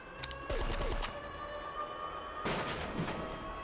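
Gunshots in the Die Hard: Nakatomi Plaza video game, aimed at an enemy: a burst of sharp reports near the start, then another loud shot later, echoing over a low game ambience.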